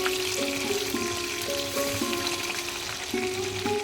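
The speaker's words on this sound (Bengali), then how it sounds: "এবারে উল্টো পিঠটাও আমি ভেজে নিচ্ছি।" Tangra fish frying in hot oil in a wok, a continuous loud sizzle and crackle with faint clinks of stirring, no voices.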